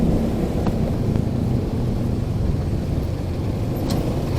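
Road traffic rumbles along a Philippine street under resurfacing, a steady, loud low drone of vehicles with wind buffeting the microphone and faint clicks here and there.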